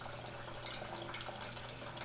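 Water runs steadily from old toilet plumbing, a continuous close hissing trickle with no pauses.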